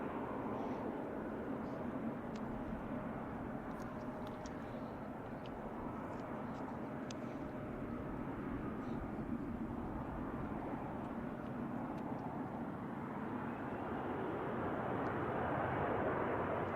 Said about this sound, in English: we will have a 777 with United take off of one right in a little bit